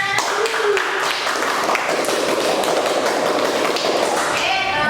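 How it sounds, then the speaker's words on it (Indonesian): Classroom of students claps for the final discussion group, a dense, steady patter of many hands close by, with a few children's voices mixed in throughout. "Berikan tepuk tangannya"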